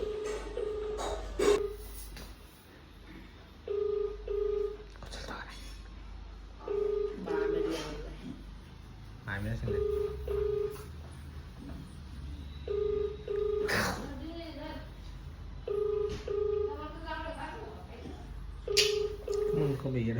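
Repeated phone ringback tones, evenly spaced pulses sounding again and again without pickup, with a voice talking quietly underneath and some background noise.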